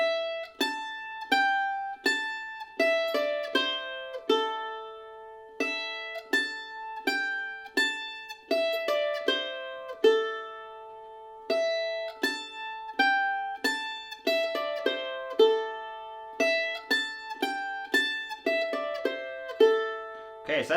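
Measures 3 and 4 of the bluegrass tune Cluck Old Hen are played on a mandolin, with clear plucked notes in a steady, repeating rhythm, close and solo.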